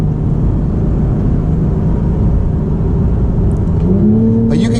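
Porsche 991 GT3 flat-six with a 9,000 RPM redline, heard from inside the car on a drive: a loud, steady engine drone that climbs in pitch near the end as it revs harder, with no talking.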